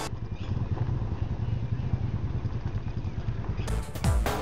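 Two Royal Enfield motorcycles pass by with a loud, throbbing engine rumble that stays strong throughout, then a brief burst of higher noise near the end.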